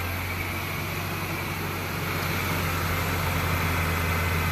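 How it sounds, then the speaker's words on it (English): An engine cooling fan runs steadily on an idling car, a constant broadband whoosh over a low, even engine hum, close and unchanging throughout. "you can hear the fan"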